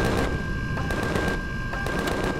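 Weapons and turrets firing in the Empyrion Galactic Survival video game, a loud, continuous barrage of rapid gunfire with heavy, repeated booms running the whole time, no voices over it.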